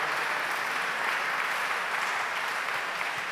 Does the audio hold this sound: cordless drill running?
no